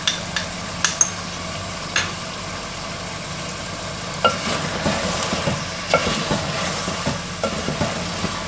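Tomatoes and ground spices frying in a pan for biryani crackle steadily up close, broken by repeated spatula knocks and scrapes against the pan, with no talking.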